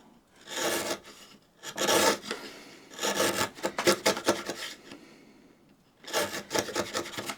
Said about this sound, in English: I can go to my slightly wider chisel.